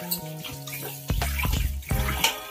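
Tap water runs and splashes while the bowl of a SmartFingers Comfort Plus wet grinder is washed separately, coming in uneven bursts with some tonal background sound.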